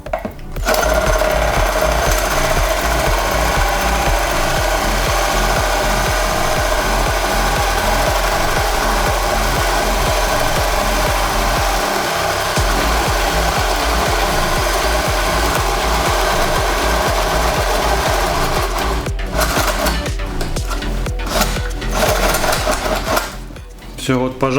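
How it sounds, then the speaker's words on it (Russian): Cordless drill on nickel-cadmium batteries driving a 38 mm spade bit, a steady loud grinding whir with a fast rhythmic chatter that runs almost without a break and cuts off near the end. "Просверлить отверстие на 38 мм перьевым сверлом не получилось."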